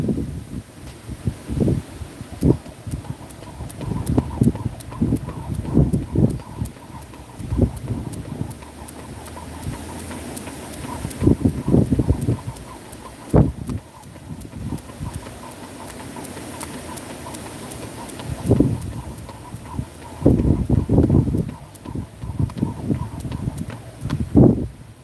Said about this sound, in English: I am skipping rope.